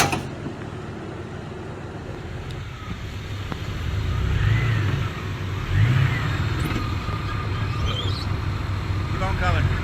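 Jeep XJ Cherokee engine climbing an off-road rock obstacle, low rumbling revs rising in a couple of surges while people talk and call out directions over it outdoors.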